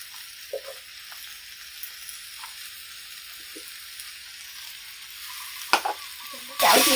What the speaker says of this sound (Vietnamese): Chảo chiên đậu hũ mình còn một ít hành và tỏi, sẽ cho hết vào cái chảo xào của mình